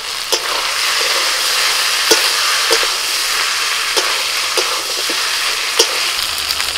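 Chicken frying and being stirred in a pan with garlic, green chilli and ginger pastes, a steady loud sizzle broken by repeated scraping clicks of a spatula; no talking.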